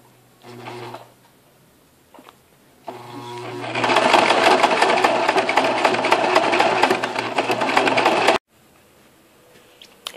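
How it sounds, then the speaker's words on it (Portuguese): Sewing machine stitching a zigzag around the outline of a fabric panel for a notebook or book cover: a rapid, steady mechanical chatter lasting several seconds, preceded by brief handling sounds and a low hum. "eu vou para a máquina de costura e fazer o ponto zigue-zague em todo o contorno"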